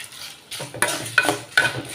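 Urad dal, garlic and dried chillies roast in a pan, with a soft sizzle broken by three sharp scraping stirs of a spoon against the metal, close and without talk.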